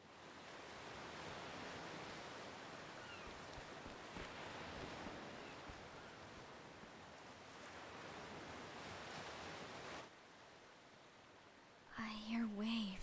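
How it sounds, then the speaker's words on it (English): Soft ocean waves wash in broad, slow swells in the video game Octopath Traveler 2. The sound is faint and continuous, and a brief murmur of voice comes in at the end. "I hear waves."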